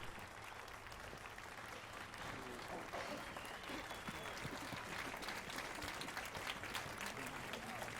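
Crowd applause in The Witcher 3, a steady wash of many hands clapping that carries on for several seconds at moderate distance, with faint talk mixed underneath.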